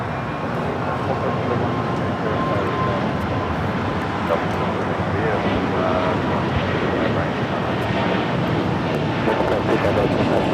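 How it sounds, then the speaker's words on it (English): A Breeze Airways Airbus A220-300 airliner takes off at LAX, heard as a loud, sustained jet roar with wind buffeting throughout while voices talk over it. "825 taking off to Akron on an A220-300"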